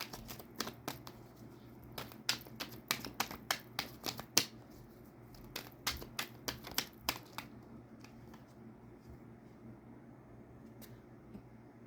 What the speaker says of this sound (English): let me pull one more card